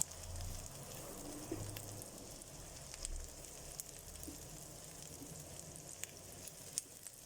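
Onions fry in a pan for chicken noodle soup, giving a faint, even sizzle with a few small ticks and pops scattered through it.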